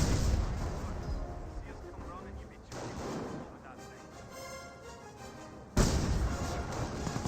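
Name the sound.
Hummel artillery barrage in Company of Heroes video game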